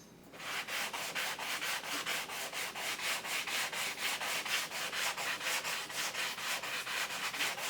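Sandpaper works back and forth along a wooden guitar fretboard in even, rhythmic rasping strokes, about three per second, close and clear with no speech.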